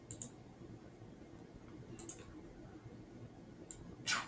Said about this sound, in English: Clicking return.